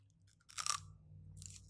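Someone bites into old, browning celery at a restaurant table, giving one short crisp crunch, then quieter chewing near the mic with no talking.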